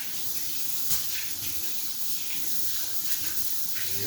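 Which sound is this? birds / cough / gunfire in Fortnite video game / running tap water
running tap water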